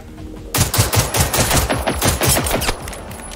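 Rapid bursts of automatic gunfire from the Generation Zero video game, loud and close, with a short quiet lead-in before sustained rattling shots for about three seconds.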